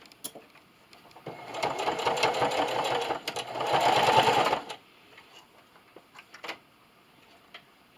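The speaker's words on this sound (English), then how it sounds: "Now just sew all the way around." Sewing machine straight-stitching a seam on a fleece hat, a fast mechanical whirring run in two bursts separated by a short pause, close and fairly loud, with quiet clicks before and after.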